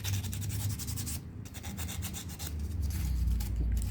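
Sandpaper of 160 grit rubbing over an air-dry DAS modelling clay piece, a steady close-up rasping scrape that runs continuously with a short pause partway through, with no voices.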